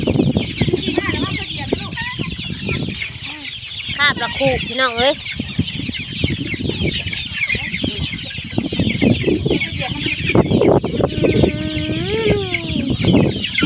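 A flock of chickens clucks and squawks loudly up close at evening feeding time at a village home, with a rooster's crowing and other calls rising over the clucking as someone speaks throughout.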